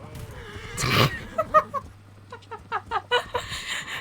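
A horse in Assassin's Creed Origins gives a loud, close neigh followed by a run of shorter whinnying snorts and nickers, a quick series of bursts over low game ambience.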